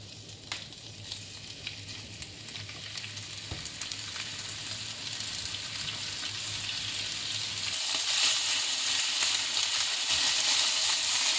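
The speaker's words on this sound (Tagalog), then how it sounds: "once hot na yung ating mantika, ilagay na natin ang ating beef" Beef sizzles and fries in hot oil in a pan, a steady crackling hiss that grows louder and brighter partway through, close by, with no voices.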